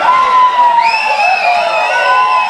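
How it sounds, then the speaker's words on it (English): Crowd at a rugby club match cheering and whooping loudly, a continuous wash of shouts and high-pitched voices with no pauses. "crowd goes wild for Craig McMahon, I believe, in his budgies, doing some push-ups"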